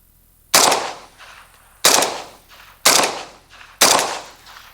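Four sharp, loud single shots from an RPK rifle firing 5.56 rounds at a 5-inch steel gong ring out at roughly one-second intervals, each trailed by a fading echo.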